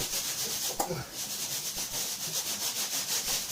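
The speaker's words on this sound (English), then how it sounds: "It's hard trying, you have to sand it down." Sandpaper rubbing a wall before painting, a steady, loud, close scratchy hiss in continuous back-and-forth strokes for a few seconds, with a voice faintly present.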